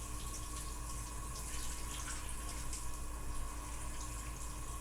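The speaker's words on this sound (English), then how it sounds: "I'm just going to get those rinsed real quick." Steady running water from a kitchen sink tap as food is rinsed beneath it, a constant close hiss with faint splashing, no talking.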